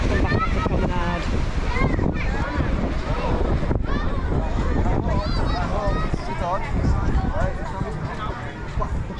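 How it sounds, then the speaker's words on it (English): Strong wind sweeps across the seaside promenade in Prestatyn, a steady roar and buffeting on the microphone beneath continuous talking. "because that direction we're getting nothing but wind."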